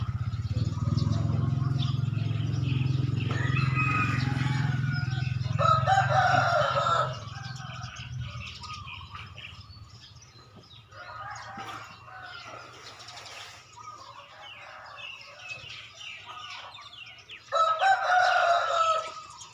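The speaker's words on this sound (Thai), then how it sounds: "นี่ทั้งเสียงไก่ให้ได้ฟังเด้อพ่อแม่พี่น้อง" A rooster crows loudly several times while hens cluck and fowl bustle nearby, with a low steady hum underneath in the first part.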